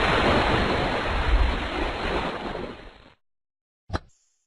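Ocean waves wash in a steady broadband surf roar for about three seconds, then cut to silence before a brief sharp click near the end.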